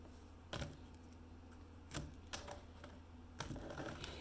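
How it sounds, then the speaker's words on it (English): A deck of tarot cards is cut and handled, giving a few faint, sharp papery snaps and taps spaced irregularly against a quiet background. "we're going to go ahead and cut the deck"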